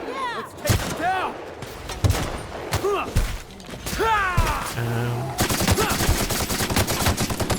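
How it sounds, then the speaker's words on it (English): Assault rifle fire in the sci-fi shooter The Outer Worlds: Spacer's Choice Edition: loud shots and impacts mixed with warbling creature cries, ending in a sustained rapid burst of automatic fire. "that assault rifle's pretty good"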